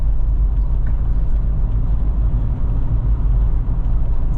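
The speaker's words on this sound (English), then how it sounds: "So with these worn out cupped tires at 45 mile an hour, not a whole lot of noise." Low, steady rumble of road noise from worn, cupped tires rolling at 45 mph, heard from inside the vehicle as a constant droning hum without pauses or talk.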